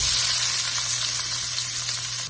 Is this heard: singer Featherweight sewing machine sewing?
no